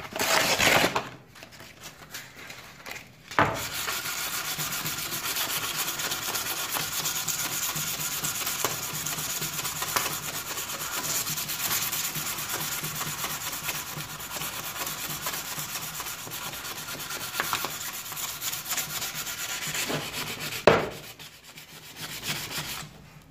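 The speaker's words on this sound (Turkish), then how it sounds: "Şimdi bir tane kalın zımpara aldım. Bir de zımparayla deneyelim." Coarse sandpaper rubs back and forth on a Peugeot 105 moped engine casing, a steady gritty scraping that runs nearly unbroken at close range, with a couple of short pauses and no talk.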